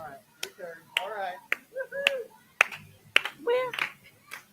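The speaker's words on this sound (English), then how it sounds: "Y'all turn around and clap hands with each other." People in a church clap hands with each other in sharp, scattered claps, mixed with singing and voices from a worship gathering.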